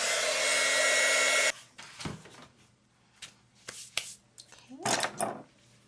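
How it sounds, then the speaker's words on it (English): A heat gun blasts a loud steady whoosh for about a second and a half while heat-embossing a card tag for an autumn-themed swap, then shuts off, leaving scattered taps and paper handling noises. "So I'm going to emboss that."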